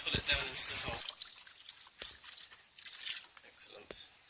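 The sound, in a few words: water poured into pond liner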